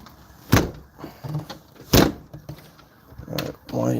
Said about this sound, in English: Let's lock this door back here.